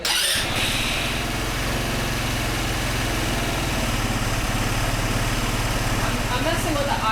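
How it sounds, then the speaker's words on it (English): A GY6 scooter engine runs steadily at idle after being repaired following two years of sitting, a continuous close, loud drone with a faint pulsing beat throughout, with no talking over it. "I just adjusted the idle, but let me see if I can get it to"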